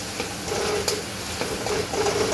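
Onion, chili, garlic and ginger fry in hot oil in a home kitchen, a steady close sizzle with occasional stirring scrapes and soft pops, heard alone without speech.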